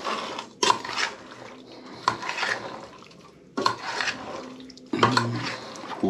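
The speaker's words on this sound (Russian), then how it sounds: "Вот заливаем, перемешиваем тщательно." Hot boiled oil poured over raw pike pieces and stirred thoroughly, giving several sharp clinks and clatters of utensil against dish with sizzling and scraping in between, close and fairly quiet, with no talking.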